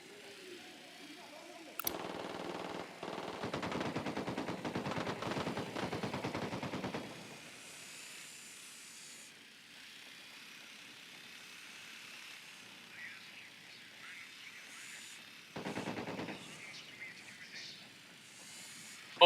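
Automatic gunfire in Ghost Recon Wildlands, Ocoro Province: a sudden burst of sustained rapid shots lasting several seconds, then quieter ambience and a second short burst later.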